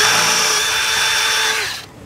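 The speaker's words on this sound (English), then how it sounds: "it'll allow it to drill through a lot easier, especially on thicker metal" A power drill bores through thick metal with a steady, loud, high whine at one pitch. The whine holds for under two seconds, then drops off abruptly as the drill stops.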